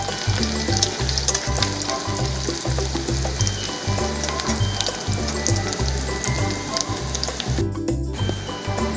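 Sliced onions frying in oil for a chicken curry, a loud continuous sizzle with rhythmic stirring knocks and occasional clinks of the utensil against the pan.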